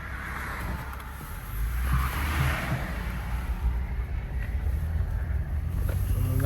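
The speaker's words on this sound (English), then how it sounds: "We're in an intersection and we're gonna make a U-turn." A Toyota Sienna minivan with 124,000 miles and a suspected noise issue makes a U-turn at an intersection: a low, steady engine and road rumble with wind noise, swelling slightly as it pulls through the turn.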